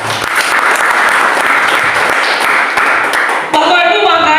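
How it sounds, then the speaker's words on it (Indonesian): Crowd applause from a congregation during a church worship service, a dense wash of clapping that gives way near the end to a brief burst of music or voices. "Tepuk tangan dong."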